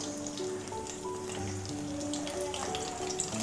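Cinnamon, cloves, cardamom and curry leaves frying in hot oil, a steady close crackling sizzle with faint pops throughout.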